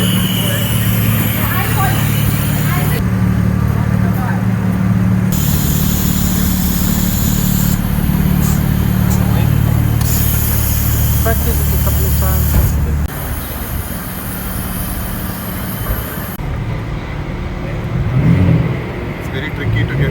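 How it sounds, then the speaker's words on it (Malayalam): A car's engine hums and rises steadily as it is driven around an autodrome racetrack, with people talking over it throughout. "ഞാൻ കയറി ഒന്ന് ഓടിച്ചിട്ട് വരാം കേട്ടാ,"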